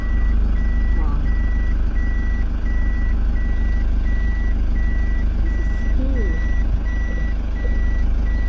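Reverse warning beeps from a car shifted into reverse at a used car lot in Eldoret, Kenya, a rapid regular series of short beeps over engine hum and background noise.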